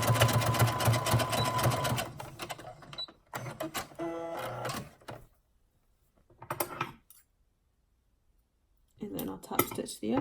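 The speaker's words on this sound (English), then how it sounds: "And then I'll top stitch the other side." A sewing machine topstitching fabric runs in short bursts of rapid mechanical whirring and needle clatter, close and clear, separated by quiet pauses with occasional handling noises.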